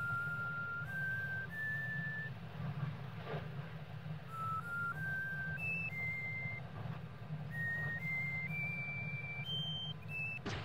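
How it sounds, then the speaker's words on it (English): Kel, a character in the game Omori, whistles a simple tune of rising and falling clear notes over a steady low background hum, playing alone without talking. "Aubrey does not have much patience for whistling."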